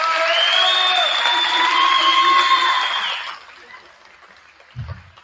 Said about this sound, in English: Keisha, give her a applause.